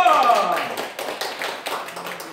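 A church congregation at a Sunday worship service breaks into applause, a burst of quick claps mixed with voices that begins loud and tapers slightly over a couple of seconds.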